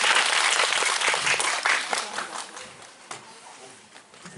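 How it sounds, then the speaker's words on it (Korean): An audience at a film screening and guest talk event claps in a loud, dense burst that gradually thins and fades toward the end. "큰 박수 부탁드립니다."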